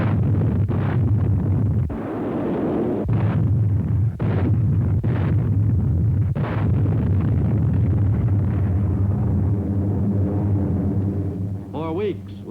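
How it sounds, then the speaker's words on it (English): Warships shelling Kwajalein Atoll, a series of heavy booming blasts and rumbling detonations roughly every second or two over a constant low drone, with a faint whistling tone near the end. "the warships began their softening up of Kwajalein Atoll."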